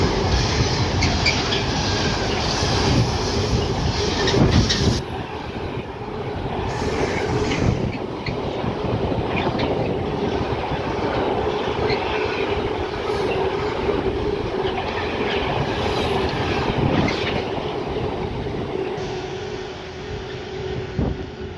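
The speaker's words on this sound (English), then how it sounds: "passing through now is a Freightliner 66 going from London Gateway to Lawley Street" A Freightliner Class 66 diesel freight train travelling from London Gateway to Lawley Street rolls through Wolverton on the West Coast Main Line with a sustained rumble, rhythmic wheel clatter and occasional squeals, close and steady throughout.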